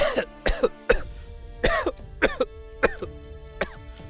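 Repeated harsh coughing, about eight rough bursts in irregular succession, close and fairly loud with brief pauses between fits.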